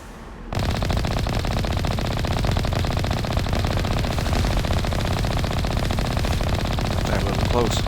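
Gatling cannon turret fire in the video game Mass Effect, a dense, unbroken stream of rapid mechanical shots that kicks in after a brief lull and continues loudly throughout.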